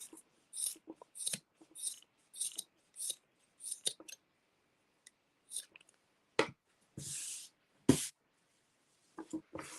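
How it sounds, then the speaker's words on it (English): Scissors snip through macrame cord fringe on a handmade coaster, a string of close, crisp cuts in irregular bursts with short pauses between them. "And then I'm gonna cut the fringe."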